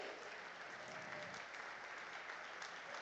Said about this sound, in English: Can we please have a huge round of applause and a standing ovation for our honorable chief guest